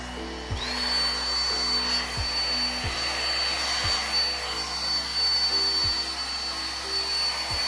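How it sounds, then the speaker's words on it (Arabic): A hair dryer blows on tea-stained paper to dry it, a loud, continuous airy roar with a thin high whine, plus soft periodic low knocks. "انا استخدمت الاستشوار علشان احاول انشفه بسرعة شوية"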